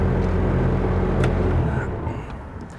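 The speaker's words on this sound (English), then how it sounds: "I can hear the engine bogging down, no lift." A heavy Bobcat skid steer engine rumbles steadily, its low drone sagging and straining as it bogs down under hydraulic load, before dropping off quieter near the end; no voices.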